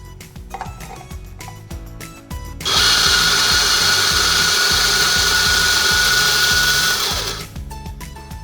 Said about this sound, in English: by doing that, we grind the coffee beans remain here